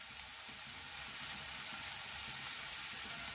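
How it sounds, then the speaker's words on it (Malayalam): Green chilli and garlic sautéing in a pan for egg cutlets, a steady close sizzle and hiss that continues evenly throughout, with no voices. "പച്ചമുളക്, വെളുത്തുള്ളി, ഇതെല്ലാം നമ്മൾ അരിഞ്ഞു വെച്ചതെല്ലാം കൂടെ ഇതിൻ്റെ അകത്തേക്ക് ചേർത്ത് നമുക്ക് വഴറ്റി കൊടുക്കാം."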